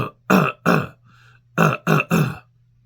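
A narrator's voice imitates a hacking cough, two bursts of short harsh coughs in groups of two and three separated by a brief pause, close and alone over a low hum.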